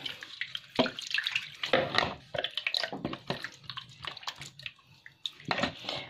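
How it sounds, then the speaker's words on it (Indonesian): A small plastic food container for a sugar glider is washed under a running tap: an irregular patter of splashing and dripping water, with clattering handling sounds, close and moderately loud throughout. "jadi setiap ganti makan kita harus cuci ya wadahnya ya, tempatnya"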